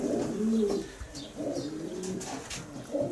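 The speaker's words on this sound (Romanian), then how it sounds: "Al doilea porumbel de top național, Bucati, cu seria 900-30-40-2017." A racing pigeon coos close by, with several soft, throaty rolling calls in a loose rhythm and faint higher chirps from other birds in the background.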